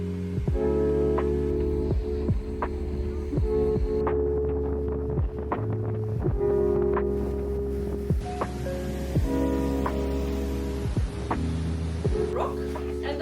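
A tour boat on a Norwegian fjord hums with a steady low engine drone and rhythmic throbbing, punctuated by regular faint knocking beats, with wind noise in the background.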